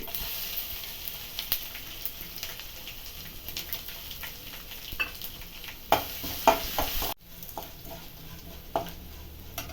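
Mustard seeds, curry leaves and crushed garlic sizzle in hot oil for puliyogare, a close, continuous crackle with sharp pops and spoon clinks, briefly cut off partway through, with no talking.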